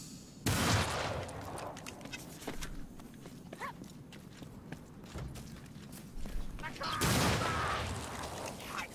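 Gunshots ring out in Warhammer Vermintide, two heavy blasts roughly six seconds apart, near and loud, with scuffling combat noise and movement in between.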